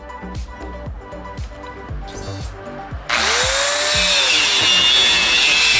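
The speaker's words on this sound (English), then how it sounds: "My last attempt was to use my Dremel Saw Max with a grinding blade on it, and that worked fantastic. It cut it like butter." A Dremel Saw Max fitted with a grinding blade cuts through a metal mailbox plate, starting abruptly partway in as a loud, steady high-pitched grinding whine with a shifting tone, after some quieter knocking and handling sounds.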